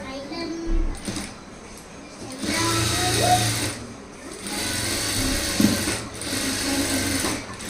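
Sewing machine stitching a blouse piece, several bursts of rapid mechanical whirring separated by short pauses, close and fairly loud, with faint background voices.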